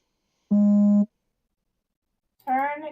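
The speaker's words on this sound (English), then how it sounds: "Turn your damn phone off of vibrate." A mobile phone on vibrate gives one steady half-second buzz, loud and close. After a short silence, a voice starts speaking.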